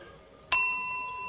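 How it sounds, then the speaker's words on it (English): A single bright bell ding, a notification-style sound effect, strikes sharply after near silence and rings out with a long, clear sustained tone that slowly fades. "You thought I was going to do the bell sound."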